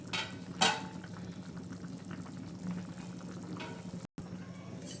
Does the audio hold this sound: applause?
no